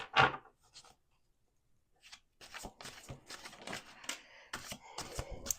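Tarot cards are shuffled by hand, starting with a single sharp riffle, then a brief pause, then a run of quick papery flicks and slaps, close and fairly quiet, with no talking.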